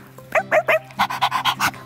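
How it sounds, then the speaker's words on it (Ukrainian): A dog pants in quick bursts, first three short breathy huffs, then a faster run of about eight rhythmic pants, loud and close with no talking. "Привіт, пес Річі."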